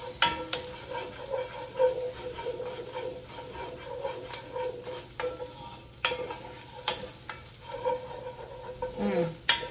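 Ginger, garlic and onion frying in a hot pan for a vegan Thai red curry, a steady sizzle broken by repeated scrapes and clatters of stirring, close and fairly quiet.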